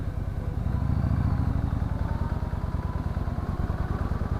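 A 2018 Yamaha Eluder motorcycle engine lugging in second gear, with a low, rapid, evenly pulsing thump that holds steady and close throughout, no voices.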